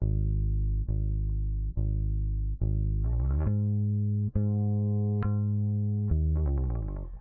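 Electric bass plays the worship song Goodness of God, with sustained low notes plucked in a slow, even rhythm and slides between chords, played alone without talk.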